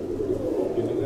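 Racing pigeons at a Thessaloniki club loft coo in a low, continuous murmur, close and steady, with people talking nearby.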